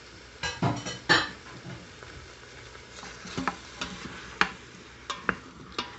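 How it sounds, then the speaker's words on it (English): Onions and garlic going into a pan for birria, a faint sizzle beneath a series of clear spoon scrapes and clinks against the cookware, spaced irregularly and close by. "our onions, and garlic. And we are gonna start cooking that"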